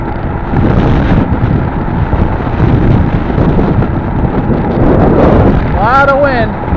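Loud wind buffets the microphone outdoors, giving a steady low roaring rumble throughout, with a short whistling, chirping sound near the end.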